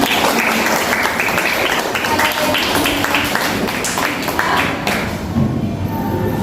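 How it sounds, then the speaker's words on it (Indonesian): Classroom audience of students clapping steadily for several seconds, dense overlapping claps at an even level from start to finish with no speech over them. "Oke, tepuk tangan dulu."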